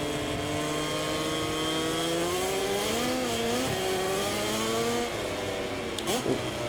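A KTM racing motorcycle in MotoGP 24 drones in a continuous high engine whine that climbs and dips with gear changes, loud and steady throughout, with no pause.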